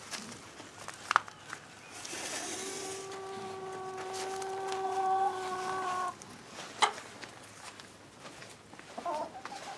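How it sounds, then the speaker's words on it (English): Chickens cluck and squawk nearby, one drawn-out call in the middle, over quiet outdoor background with occasional knocks. "Chickens are all okay."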